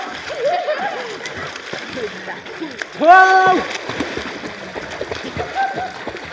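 People swimming in a river make scattered, close splashes and sloshing water, with voices calling and shouting over and between the splashes.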